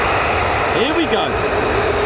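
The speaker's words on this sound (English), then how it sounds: "There seems to be a lot of F-35s making their way." F-35 fighter jets take off at RAF Lakenheath, a loud, steady jet roar filling the air with a slowly shifting tone as an aircraft passes, while a person talks over it.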